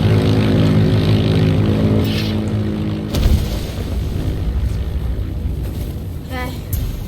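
A propeller airplane engine in a video game drones loudly and steadily, easing slightly before a brief thump, then continuing at a lower level with some fluttering, while people talk intermittently.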